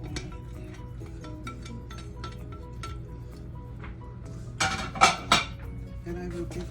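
Steak and pork meat being stirred with oil in a pan while cooking chow mein, heard as a steady background bed with scattered light clinks, then a few louder metal scrapes and clanks of the utensil against the pan.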